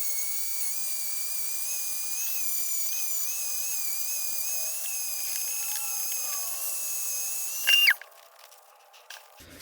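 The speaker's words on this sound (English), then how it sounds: "Dremel, or Dremel, the rotary tool, I guess you could call it" A high, steady whine from a rotary tool cleaning up old Ace, Powr-Kraft and Craftsman screwdrivers, its pitch wavering as it meets the metal, then cutting out with a brief rattle near the end.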